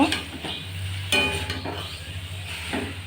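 Water poured into a pan of sizzling egg and potato dalna with soybean: a sudden hissing burst, then steady sizzling and faint stirring over a low background hum, with no talking.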